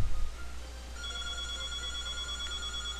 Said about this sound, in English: Like a phone that rings